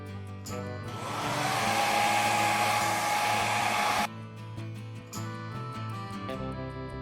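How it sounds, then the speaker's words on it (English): A hair dryer blows on a DIY trash-to-treasure home decor project, a loud, steady, close airy roar lasting about three seconds before it cuts off, with background music playing throughout. "I am just gonna blow dry it and we'll see what happens here."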